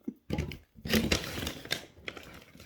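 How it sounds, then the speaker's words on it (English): Plastic grocery bags crinkle and rustle in close, irregular bursts while shopping is unpacked, loud and crackly with brief pauses between handlings. "I'm so sorry about the noise that I know the bags are making."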